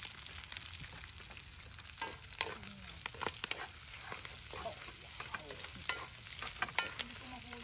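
Onions fry in a pan at a recreational park cookout, a steady crackling sizzle broken by irregular scraping and clinking as a utensil stirs them, close and fairly quiet, with no talking.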